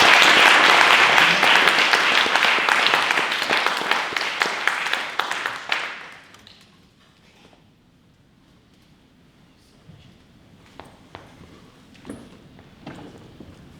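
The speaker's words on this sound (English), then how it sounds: "One last round of applause for Ramsey" An audience at a musical celebration finale gives a loud round of applause that fades out after about six seconds, leaving a quiet room with a few scattered claps and faint shuffling.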